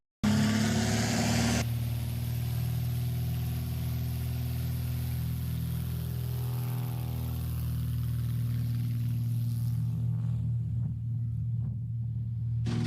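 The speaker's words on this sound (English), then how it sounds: "Absolutely beautiful sound coming from the engine in the Rebel." The engine of a Murphy Super Rebel aircraft at a STOL competition gives a steady, loud, low droning rumble that holds evenly for several seconds, with a harsher high edge at the start.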